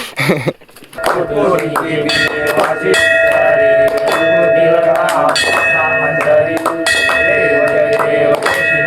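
Temple bells ring continuously and loudly during a Mahashivratri aarti, a dense, bright metallic clanging with sustained ringing tones over a crowded background of voices.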